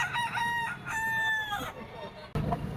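A Bruce Burnett bloodline gamecock at a rooster market in Lipa, Batangas gives one loud, close crow with a drawn-out, wavering tail, followed by a brief clatter of background noise.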